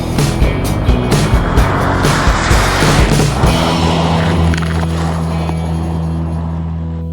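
A 2016 Mercedes-Benz AMG G65 with its 621-horsepower engine roars loudly and close off-road, a heavy rumbling burst that settles into a steadier drone.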